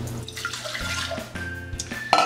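Water is poured into a mixing bowl with a few drops of yellow food coloring, a short trickling splash with drips and a small clink near the end, close and clear with no talk.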